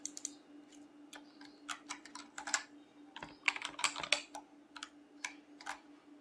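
Computer keyboard arrow keys tapped in irregular bursts of quick clicks while a browser racing game is played, close and fairly quiet over a low steady hum, with no talking.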